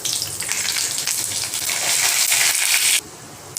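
Bay leaf, dried chilli and five-spice tempering hit hot oil for a loti fish dish, giving a loud, close, crackling sizzle that holds steady for about three seconds before dropping to a softer hiss.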